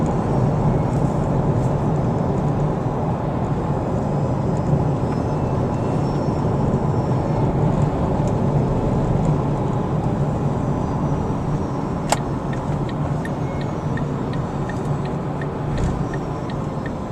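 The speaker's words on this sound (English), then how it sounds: "is taking an electric car on the freeway." Steady road and wind roar from an electric Smart car cruising on a freeway, a continuous broadband rumble with no engine note, a brief click partway through and no talking.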